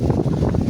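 Strong wind gusts buffet the microphone outdoors under shady trees, a loud rough rushing roar with fluttering bursts and no voices.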